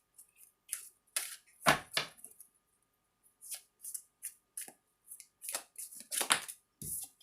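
Tarot cards are shuffled and drawn by hand in a quiet room, giving bursts of riffling and flicking with several sharp snaps and brief pauses between them.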